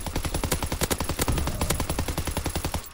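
Call of Duty WW2 automatic fire rattles in a fast, regular stream of sharp shots, loud and close, with nobody talking over it.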